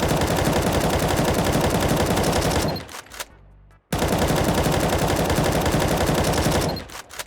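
Automatic rifle spray fire in the shooter game Counter-Strike: Global Offensive, two long rapid bursts of loud sharp shots, each lasting a few seconds, separated by a brief pause with faint mechanical clicks.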